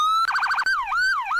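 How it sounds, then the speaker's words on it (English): A Roblox police car siren in a video game plays alone: a brief rapid yelp warble followed by two rising-and-falling wails, loud and close. "And yeah, same sirens."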